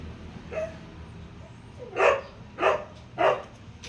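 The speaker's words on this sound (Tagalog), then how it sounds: "Ayun na, tumatahol." A dog barks outdoors on a sunny day at people passing by, one soft yip followed by three loud, evenly spaced barks at moderate distance.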